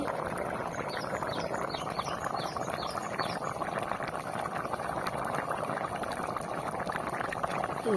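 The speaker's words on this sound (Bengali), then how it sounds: "ফুটতেছে" A pot of rohu fish curry in a small amount of water boils steadily and close, with dense bubbling and gurgling and a little clatter all the way through. No one speaks.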